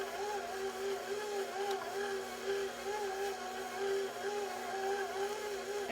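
KitchenAid stand mixer running steadily on low speed while blending pound cake batter, giving a continuous motor whir with a faint rhythmic wobble and no talk.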